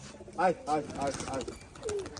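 Pigeons at a pigeon farm coo in soft, repeated rising-falling calls, several close together, with a voice speaking through much of it.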